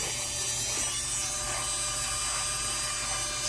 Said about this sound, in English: All right, let's see how the grind works.